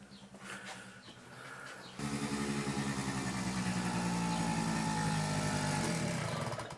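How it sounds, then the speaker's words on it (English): Scooter arriving, first faint with a little background noise, then a louder steady engine idle from about two seconds on that holds near and constant before dropping off at the end. "I can hear a scooter arriving."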